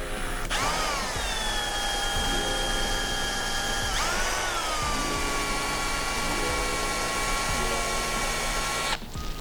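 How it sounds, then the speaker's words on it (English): A power drill whines steadily at close range while drilling a hole during a BMW ESA rear shock rebuild, its pitch dipping briefly mid-run as it bites into material, then cuts off near the end. "so we drill a hole"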